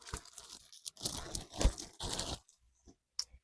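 Crinkly plastic packaging rustles and tears in a few close, sharp bursts, then falls quiet.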